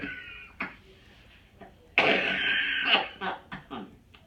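A woman coughs a few times in short bursts, with one longer harsh fit in the middle followed by smaller coughs, close and otherwise quiet.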